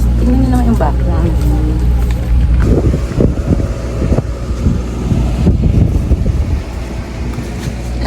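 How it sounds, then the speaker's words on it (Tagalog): Strong cold wind buffets the microphone at a campsite, producing loud, gusty low rumbles that surge and drop unevenly throughout. "Lakas ang hangin."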